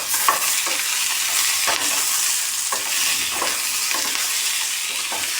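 Onions and medium tomatoes frying in a pan for kuska, with a loud steady hiss broken by regular stirring scrapes close up and no voices.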